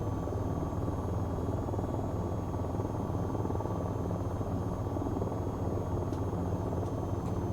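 A steady, loud helicopter rotor drone from an AH-94 attack helicopter in the VTOL VR game fills the whole stretch without letting up, with a few faint clicks near the end and no talk.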